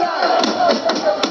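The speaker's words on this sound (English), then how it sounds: "ended his presentation, with cheers and applause from the majority side, but with boos from the NDC minority side of the House" Members of a parliament chamber roar with a mix of cheers, applause and boos after a budget presentation, a loud, dense crowd noise with sharp thumps throughout.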